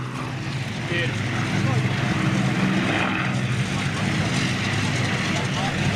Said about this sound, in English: So the B-17 now taxiing down the runway